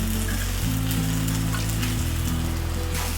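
Chillies and turmeric powder sizzle in hot oil in a pan, a steady, loud, crackling hiss that runs unbroken from start to finish over a low hum, with no talking.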